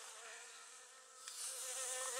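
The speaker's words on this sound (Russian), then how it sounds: "Любуемся маками в конкуренции с пчелами." Bees buzzing around red poppies outdoors in Anapa, a steady insect hum without speech that grows slightly louder toward the end.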